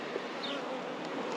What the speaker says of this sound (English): the bees are clustering outside the hive.